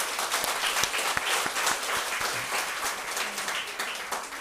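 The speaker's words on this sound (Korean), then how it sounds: "우리 한번 환영의 박수 한번 할까요?" A church congregation breaks into welcoming applause for visiting family members from Canada, a full, steady clatter of many hands clapping at moderate loudness that continues through to the end.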